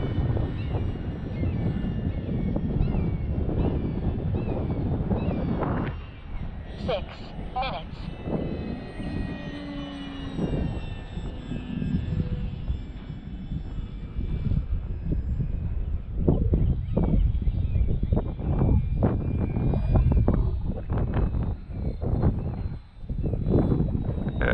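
An Xfly Tasman radio-controlled airplane drones through the air on a sunny day, its electric motor whine rising and fading over steady wind buffeting the microphone, with people talking nearby.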